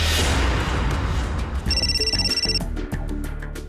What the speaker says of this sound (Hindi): मोबाइल की रिंग बज रही है